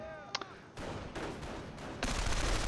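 Rifle squads and a sniper exchange fire in the real-time strategy game Company of Heroes, a dense burst of close gunshots and crackling volleys layered together, growing louder in the last second.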